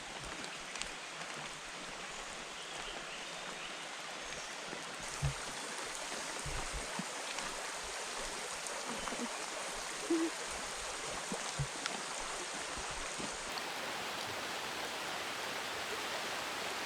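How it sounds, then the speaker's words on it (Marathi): Heavy rain pours in Devgad in the evening, a loud, steady wash of noise with scattered drops and splashes throughout. "आणि आता जोरदार पाऊस सुरू झालाय पुन्हा."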